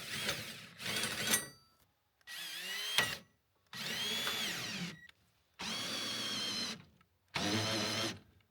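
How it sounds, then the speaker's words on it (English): Cordless power drill used on an enclosed trailer while salvaging parts from an abandoned Alaska cabin, whirring in six separate bursts of one to two seconds each, with short pauses between them, close and loud. "Let me go get the drill and see how the drill does."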